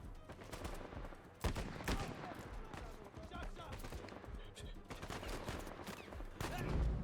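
Gunfire in Uncharted 4: A Thief's End, with dense, continuous shots and sharp cracks over a busy in-game soundscape, sustained throughout at moderate loudness.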